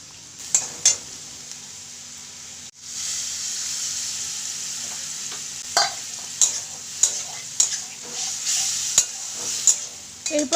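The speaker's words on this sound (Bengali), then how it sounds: "জল দিয়ে মশলাকে কষিয়ে নিতে হবে।" Spice masala with ginger paste, chili, cumin, turmeric, salt and a little water sautéing in oil in a pan, a steady hiss broken by repeated sharp scraping clinks of a spoon stirring, close and fairly loud.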